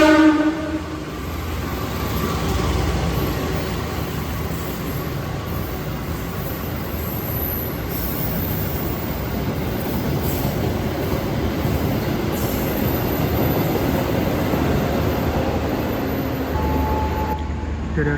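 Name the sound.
parcel freight train passing Solo Balapan station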